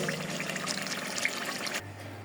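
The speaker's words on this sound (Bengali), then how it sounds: "এখন আমি ভালো করে চালটা ধুয়ে নিই।" Rice is swished and rinsed in water, a continuous close watery sloshing that stops abruptly near the end, leaving a low hum.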